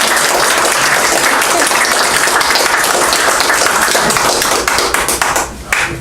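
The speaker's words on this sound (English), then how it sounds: "Can you clap?" Applause from the audience at the Poquott village organizational meeting, steady dense clapping that fills the whole stretch, loud and close, and then thins out slightly near the end.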